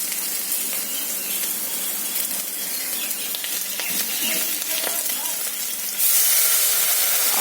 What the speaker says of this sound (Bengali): আমি এবার মশলাটা ভালো করে কষিয়ে নেব